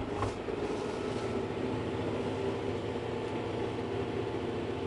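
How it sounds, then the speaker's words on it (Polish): A tractor steering itself along a field line on automatic guidance, its engine a steady, continuous low drone with cab rumble, moderately loud and unchanging throughout, with no talk. "Ciągnik jedzie sam."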